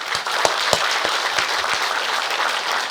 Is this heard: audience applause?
yes